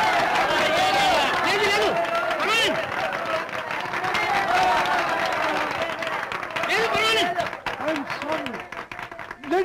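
A theatre audience applauds after an announced 50,000-rupee donation, a dense sustained wash of clapping with crowd noise and voices mixed in, tapering somewhat toward the end.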